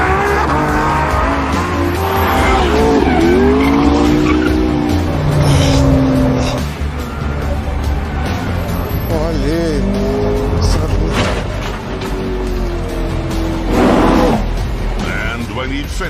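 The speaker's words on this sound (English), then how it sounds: "took the cars out to get a sense of how they handled." Cars driven fast around a track by a former Formula 1 and Formula E racer, engines revving up and down through gear changes with tyres squealing in several skids, loud and close, while someone speaks over it.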